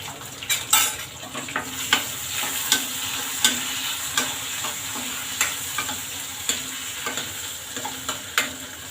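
Vegetables sauté with broken red chillies and tomatoes in a pan for South Indian sambar, a close steady sizzle punctuated by regular metallic stirring clacks roughly every half second, with no voices.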